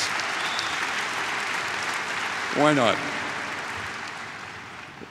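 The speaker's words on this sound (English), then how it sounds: "Yeah, you can applaud that." Commencement audience claps in a sustained, fairly soft wash of applause that fades slightly toward the end, while a speaker briefly talks over it.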